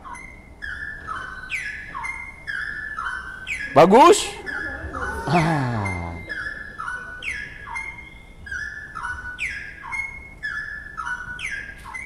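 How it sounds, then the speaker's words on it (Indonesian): A cucak rowo (straw-headed bulbul) sings clear, repeated descending whistled phrases in a steady rhythm, loud and close, while a voice briefly speaks over the song midway. "Kita dengar suara cicak rowo di sini."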